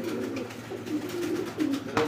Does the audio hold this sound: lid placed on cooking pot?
no